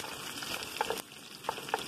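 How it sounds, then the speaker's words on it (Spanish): Chopped potatoes fry in a pan with a soft, steady crackle and sizzle, punctuated by a few brief louder pops and stirring clatters, close and fairly quiet, with no voices. "le vamos a poner las papas que picamos para que se fría"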